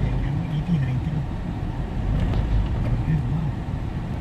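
A Ford Everest SUV cruises on a highway, with steady engine and road noise from inside the cabin running continuously while occupants talk over it.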